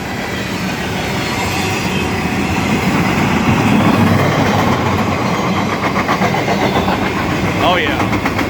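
A fast freight train rolls through a rail siding near Camden, Tennessee, a loud continuous rumble of wheels and cars with rhythmic clacking and faint squeal, close by, with someone speaking over it.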